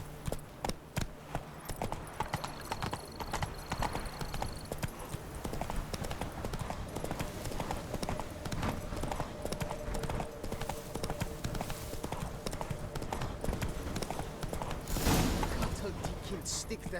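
Roach, Geralt's horse in The Witcher 3, gallops with steady rapid clip-clop hoofbeats running throughout, close and clear over game ambience, with voices talking at points.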